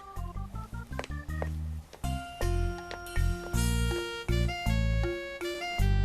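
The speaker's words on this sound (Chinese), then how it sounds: "我去打电话。" A rapid run of telephone keypad tones beeps out a number, followed by longer steady dial tones in a quick sequence.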